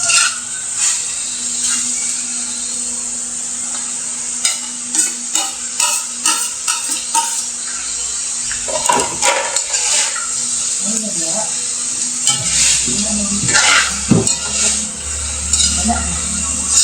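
Carrots tossed into a hot pan for chopsuey, a steady sizzle with rapid, repeated stirring scrapes and clinks of a utensil, close and fairly loud, with a voice speaking over it.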